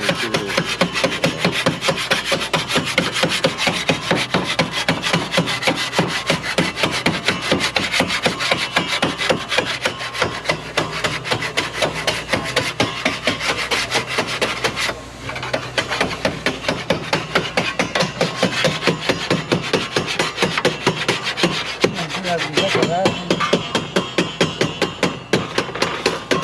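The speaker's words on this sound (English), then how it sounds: "Sharpening your tools." Hand tools such as concrete trowels are sharpened with steady back-and-forth rasping strokes, a rhythmic, close, continuous grinding scrape with a brief pause midway.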